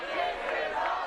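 Wrestling crowd at a TNA Turning Point 2006 match between Kurt Angle and Samoa Joe, a steady, loud roar of cheering voices filling the arena without a break.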